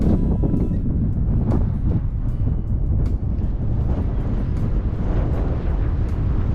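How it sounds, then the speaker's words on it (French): Steady hilltop wind on the hills of Saint-Michel-de-Frigolet rumbles across the microphone in a constant, close buffeting roar with brief gusty swells and no talk. "Aïe aïe aïe, il y a du vent."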